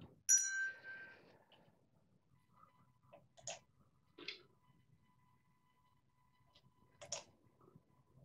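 A single bright bell chime rings out near the start of a Skat card game, followed by sparse soft clicks and taps in an otherwise quiet room.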